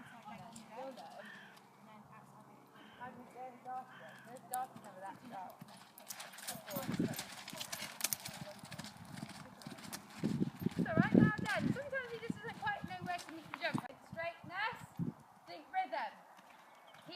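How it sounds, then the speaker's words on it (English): Rhythmic hoof clip-clop of a horse cantering in a riding arena, moderately near, with an instructor's voice and calls running over it throughout. "Keep the canter going."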